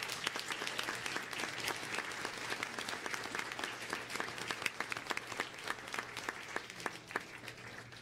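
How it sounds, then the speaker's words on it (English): An audience at a school district board meeting claps for a student performance, with crisp, scattered hand claps at moderate level that ease off slightly toward the end. "Let's give them a round of applause."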